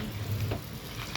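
Punugulu batter frying in hot oil, a short, faint, steady sizzle and bubbling without voices.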